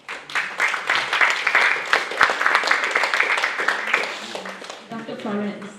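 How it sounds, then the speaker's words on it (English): An audience at a Malaysian Chinese literary talk gives a sustained round of clapping that fills the room, with a voice speaking over the applause. "Just give her a round of applause"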